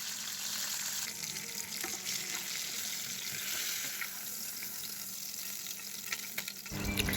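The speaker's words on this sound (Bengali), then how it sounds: "তো এই যে তেল গরম হয়ে গেছে, আমি হাত দিয়ে একটু দেখে নিলাম তাপটা কতটা গরম হয়েছে। তো পাটটা একটু গরম হয়েছে, এবার আমি মাছটা দিয়ে দিলাম।" Tilapia fish frying in hot oil in a pan gives a dense, continuous sizzle and crackle throughout, with a brief louder burst of spatter near the end.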